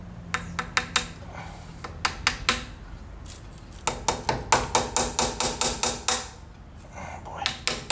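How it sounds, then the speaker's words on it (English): A nylon hammer tapping a seal into a Dana 35 differential: sharp irregular taps, then a faster run of steady strikes, with light workshop noise between. "I'm going to use a nylon hammer here just to get it started."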